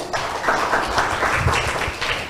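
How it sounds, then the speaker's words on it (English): An audience at a school debate between two secondary schools breaks into dense, sustained applause, many hands clapping together loudly and close by, with no talk over it. "So I'm going to please give them a big round of applause."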